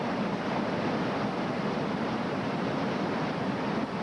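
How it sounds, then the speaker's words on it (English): Whitewater rapids at Stair Step Rapids on the Youghiogheny River rush in a constant, dense roar, steady and fairly loud without breaks or voices. "Here we are at Stair Step Rapids."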